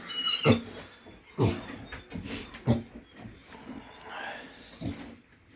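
A hound puppy whimpers and yelps in short, soft bursts spaced a second or so apart, fairly close, with quiet pauses between.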